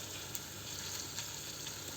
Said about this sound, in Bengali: হোক আস্তে আস্তে ভাজা